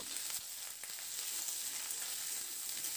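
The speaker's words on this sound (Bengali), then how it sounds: "হলুদটা দিয়ে সবজিগুলোকে মিডিয়াম ফ্লেমে খুব ভালো করে নাড়াচাড়া করে লালচে রং ধরা পর্যন্ত একটু ভেজে নেব" Vegetables coated in turmeric fry over a medium flame while being stirred, making a continuous, even sizzle that is close but fairly soft, with no voices.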